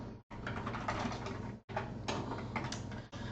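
Rapid, irregular keystrokes on a computer keyboard during game network programming, close and steady with two brief pauses, no talking.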